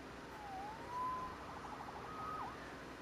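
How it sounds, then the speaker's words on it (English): A faint police siren in a Spider-Man video game wails in a few brief rising and falling sweeps, distant and thin over a quiet background hiss. "Saved by the siren."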